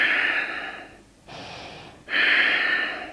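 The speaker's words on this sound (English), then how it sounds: "Take deep breaths here." Deep breathing during a yoga pose: a long airy exhale, a softer breath drawn in, then another strong breathy exhale, close to the microphone and with no talking.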